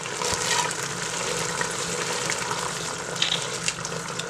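Mint extract poured into a hot candy mixture bubbles and fizzes as it gets stirred, a steady close sizzling hiss with small scraping and splashing bits throughout.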